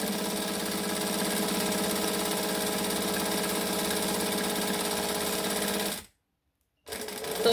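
Sewing machine stitching a crossbody bag strap, running continuously and loud at close range for about six seconds, then stopping abruptly for a moment before starting again.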